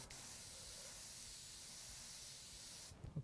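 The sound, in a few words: spraying paint onto the edges of a painting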